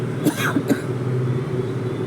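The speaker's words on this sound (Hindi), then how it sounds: "थोड़ी सी खांसी आ गई थी" A couple of short, sharp coughs near the start, then a steady low background hum with no voices.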